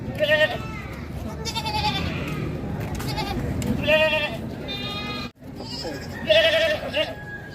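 Several goats bleat repeatedly at close range, their wavering cries overlapping with people talking in the background.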